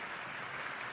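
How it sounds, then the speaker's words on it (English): An audience applauds at a political event, a brief dense wash of clapping heard from a distance. "stand up and applaud them and thank them"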